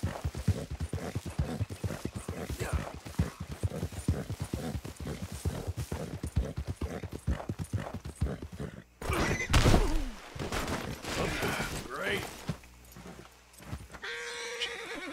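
Horse hooves clip-clop in a quick rhythmic gallop in Red Dead Redemption 2, then slow with thuds and a brief whinny near the end; close and fairly loud, no speech.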